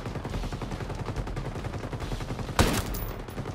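Steady rattling gunfire in Ghost Recon Breakpoint, with one sharp, louder single crack cutting through near the end, and no one talking.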